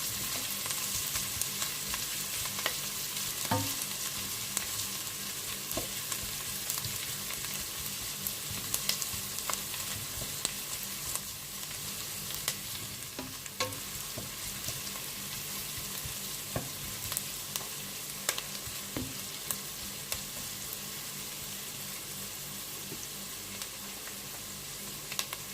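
Chopped onions sauté in oil in a pan for dinuguan, a Filipino pork blood stew, giving a steady close crackling sizzle with occasional sharper pops and light utensil scrapes, no voices.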